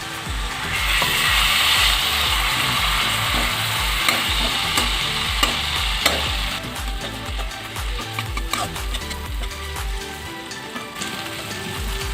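Mustard masala for a fish curry, with red chilli powder and a spoon of water added, sizzles loudly in a pan while being stirred in a steady scraping rhythm, quieting toward the end.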